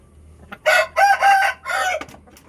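A broodcock crows loudly and close in a crossbreeding pen where hens are laying, one full drawn-out cock-a-doodle-doo in several strong segments over a quiet background.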